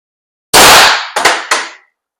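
Airsoft gun powered by HPA firing one sharp, loud close-range shot followed by two fainter pops, each with a quick decay.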